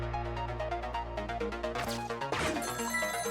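A telephone rings in the puzzle game Ghost Trick: Phantom Detective, a repeating electronic ringtone pulsing steadily over a sustained tonal music bed, with a brief swell midway and no voices.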